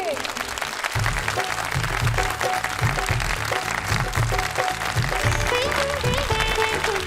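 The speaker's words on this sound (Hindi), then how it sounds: "तो जोरदार तालियां हो जाए हमारे जजेस के लिए।" Enthusiastic applause from an audience for judges on a stage at a club event, dense continuous clapping over music, with a voice talking over it.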